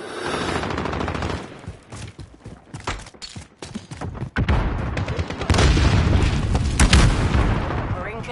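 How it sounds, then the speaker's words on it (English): Heavy, continuous explosions from a cluster strike in a Call of Duty video game: rapid overlapping booms and gunfire-like cracks building into a dense, loud barrage, with game voice lines heard over the blasts. "Allied cluster strike."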